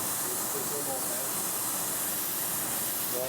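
Oxyacetylene torch flame heating copper pipe for brazing, a loud, steady roaring hiss held close and unbroken from start to finish.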